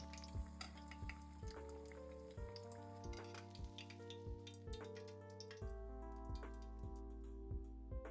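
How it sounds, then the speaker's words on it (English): Eggplant deep frying in hot oil for a Japanese vegan dish, a steady close sizzle and crackle with clinking of chopsticks checking the pieces, no talking. "Deep fry them until they become tender."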